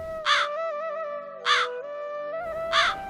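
Three loud cartoon crow caws at roughly even intervals in an animated Hindi bird story, each harsh call standing out over a steady tonal music bed.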